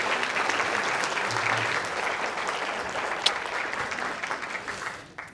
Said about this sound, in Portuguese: vou pedir uma salva de palmas para ela